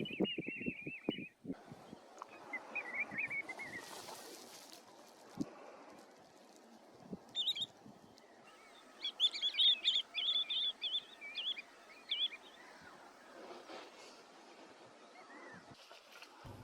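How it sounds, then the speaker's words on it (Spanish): American golden plovers forage in isolated puddles along the Salado River in summer. Faint, distant chirps and calls come in scattered bursts, busiest in the middle stretch, over a quiet open-air background. "buscaban alimento algunos chorlos pampa, otra especie migratoria que procrea en la tundra ártica de Canadá"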